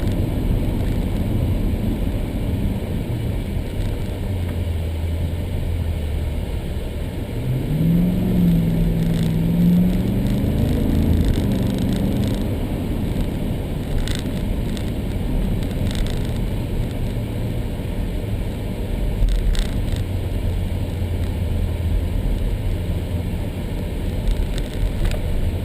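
A Ripp-supercharged 2014 Jeep SRT8 Grand Cherokee drives along with a steady engine drone and tyre roar heard from inside, fairly loud and constant, with one brief rise in engine note partway through.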